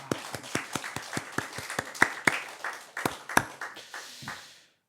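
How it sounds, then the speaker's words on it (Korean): A church congregation applauding at a Thanksgiving service in rhythmic, evenly spaced group claps that gradually loosen into scattered clapping and fade out. "그 모든 감사의 제목을 다 모아서 하나님께 영광과 감사의 박수를 올려드리겠습니다."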